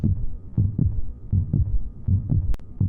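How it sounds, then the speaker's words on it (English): A human heartbeat thuds steadily in a repeating lub-dub rhythm, deep and loud and close, with a low throbbing hum beneath and a brief sharp click near the end. "Can you hear the heartbeat?"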